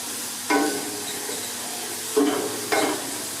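Okra and garlic frying in a pan, stirred now and then: a steady low sizzle with three short bursts of scraping stir strokes, close and alone.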